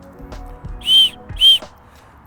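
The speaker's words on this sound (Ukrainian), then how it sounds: "Свисток." Aluminium survival whistle blown twice in quick succession, two short shrill piercing blasts close up, with faint handling noises between them.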